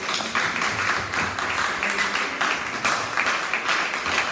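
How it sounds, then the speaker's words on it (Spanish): A church congregation claps steadily and enthusiastically for several seconds, a dense, even patter of applause filling the room. "Demos fuerte aplauso"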